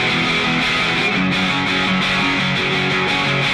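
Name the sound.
electric guitar through grit distortion pedal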